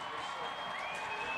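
A homecoming crowd at a high school football game between the Utica Chieftains and Roseville Panthers keeps up a steady, distant roar of cheering and clapping, with a commentator talking over it.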